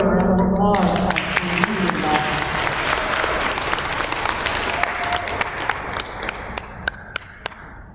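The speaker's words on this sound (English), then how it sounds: "Okay, let's go ahead and give her a round of applause." Audience applause for a contestant at a school princess pageant: a burst of clapping with cheers, thinning out into scattered individual claps toward the end, with a few voices in the crowd.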